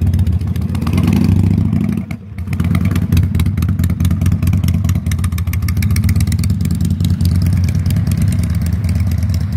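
A motorcycle ridden by a learner, its mid-pitched engine running steadily close by with revving and a brief dip in the engine sound partway through, no talk.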